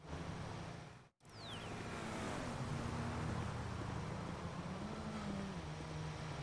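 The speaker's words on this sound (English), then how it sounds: "that car almost just hit me" A car passing close by in a San Andreas firefighting video game, a broad, loud roar of engine and road noise swelling and sustaining after a brief dropout, no talking.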